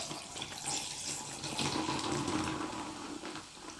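Water running steadily from a kitchen tap for a few seconds, a continuous hissing splash heard close and alone.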